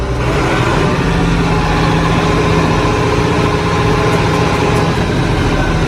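An old tractor engine idles and chugs continuously at close range, a low, steady, rough rumbling throb with no voices over it.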